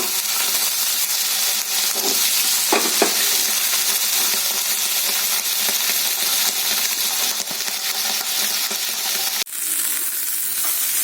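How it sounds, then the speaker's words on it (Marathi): Chopped raw green tomatoes roasting in a hot pan for chutney give a steady, close broadband sizzle with a few sharp clicks and scrapes, then the hiss drops slightly near the end; no talking. "ते व्यवस्थित आपल्याला भाजून घ्यायचे टमॅटो"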